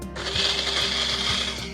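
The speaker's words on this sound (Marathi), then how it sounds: "मिक्सरचा डबा लावून घेऊ आणि चला आता वाटून घेऊ" A mixer grinder blends pineapple, coconut pieces and water in a steady, loud, continuous motor whir with a churning rattle of the chunks, close by and without speech.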